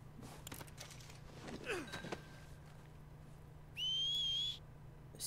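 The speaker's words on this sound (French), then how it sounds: "mon cheval il fait bien quand on siffle" In Red Dead Redemption 2, a player whistles to call his horse: one clear, sustained high whistle near the end, preceded by faint thumps and a quiet low hum in the game background.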